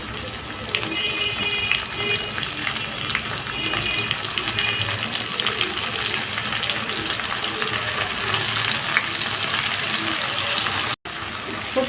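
Dried shrimp frying in oil with browned onions produces a loud, continuous sizzle with crackling spatters close by, steady throughout with a brief cut near the end.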